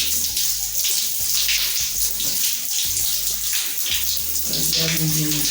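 Water from a tap pours steadily and loudly close by as hair is wetted before washing, a continuous splashing rush with a faint voice underneath.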